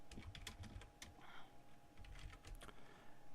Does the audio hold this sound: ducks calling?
no